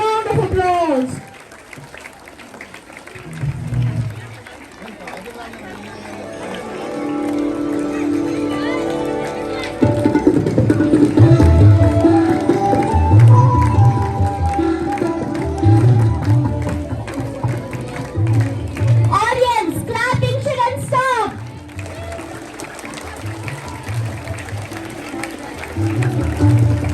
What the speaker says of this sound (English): Please, dear audience, give them a huge round of applause.